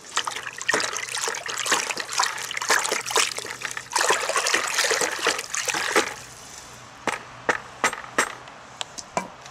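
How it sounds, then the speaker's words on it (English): A stick stirs a bucket of water mixed with rooting hormone and mycorrhizal inoculant, giving close sloshing, trickling splashes in an uneven rhythm that thins to a few separate drips and knocks. "Get some kind of stirring stick like this, and just stir it."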